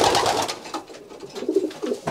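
A racing pigeon coos in a loft, giving soft, low, repeated throaty calls close to the microphone with no talking.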